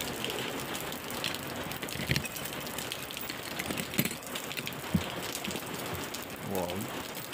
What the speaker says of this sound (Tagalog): Malakas na ulan eh.